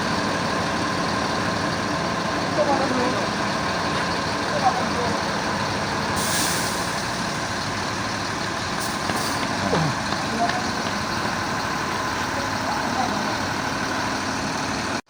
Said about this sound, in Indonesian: langsung berangkat meninggalkan Terminal Kota Nampat Payakumbuh